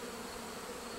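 Honey bees buzz inside an open beehive while a frame is pulled out for inspection, a dense, steady, close drone that fills every moment.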